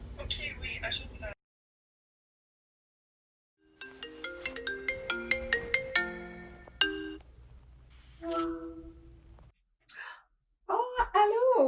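A phone call rings out in a string of bright, evenly spaced electronic tones while a person is added to a group call, with talking before and after the ringing.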